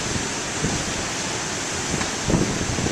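Big ocean waves roar as a loud, steady wash of surf mixed with gusting wind buffeting the microphone, with a few heavier surges near the end.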